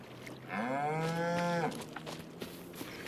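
Cattle in the Farming Simulator 25 video game let out one long, loud, clear moo lasting about a second, followed by quiet ambient farm noise.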